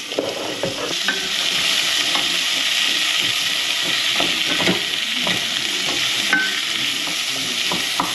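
Carrots stirred in a hot frying pan give a steady sizzle with scraping stir strokes throughout, close and fairly loud, with no talking.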